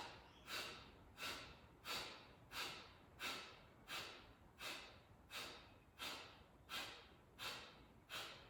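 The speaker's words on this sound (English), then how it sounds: "And then exhale." Rhythmic breathing during a meditation exercise, about a dozen evenly spaced breaths, each rising sharply and fading away, faint and close with no talking.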